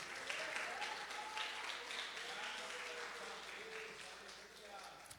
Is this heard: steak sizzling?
no